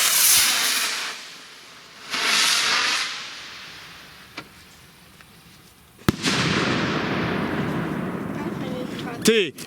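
A two-stage firework rocket hisses loudly on launch, fades, then sharp cracks, a second long roaring hiss and a final pop as the second stage fires.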